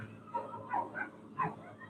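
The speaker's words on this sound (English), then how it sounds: "And then the dog starts, of course." A dog gives several short yips and whimpering barks at moderate distance, in an uneven rhythm, over a low indoor hum.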